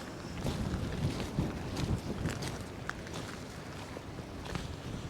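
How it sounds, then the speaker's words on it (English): Gusty wind on a rocky beach buffets the microphone in a constant low rumble, with scattered crunching steps and faint knocks beneath it. "You can hear it's quite windy today as well."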